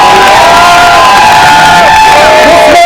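A political rally crowd at a Moms for Liberty event in Washington State erupts in loud, close cheering with whoops and shouts, so intense it sounds overdriven. Clapping is largely buried beneath the voices.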